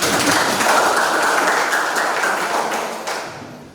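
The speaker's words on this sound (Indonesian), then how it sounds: "tepuk tangan" Classroom applause from a group of students after a teacher calls for a round of clapping, a dense steady patter of many hands that fades out toward the end.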